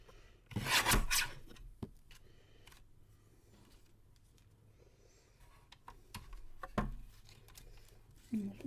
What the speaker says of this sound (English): I might have to get up and use my other trimmer